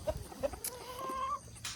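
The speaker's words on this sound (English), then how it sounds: "this rooster right there, guys, he might end up in the chicken pot" A farm rooster gives a few short clucks, then a sustained tonal call that rises and holds, close by and fairly loud over faint yard noise.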